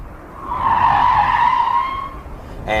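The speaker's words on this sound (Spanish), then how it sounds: "Uno de los trucos más peliagudos son los giros en J, es decir, ir para atrás" An armored car's tires squeal loudly and continuously as it skids through a reverse J-turn, the screech swelling then fading over a couple of seconds, ending with a short engine burst.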